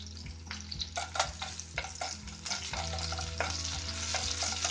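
Chopped ingredients frying in a pan for Kerala tomato curry: a continuous loud sizzle with repeated stirring scrapes and clatter, close by, with no voices.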